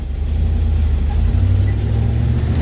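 A carbureted LS V8 with a Daytona Sensors Smart Spark ignition idles steadily up close, a continuous low rumble with a slight lift in pitch midway and no talking.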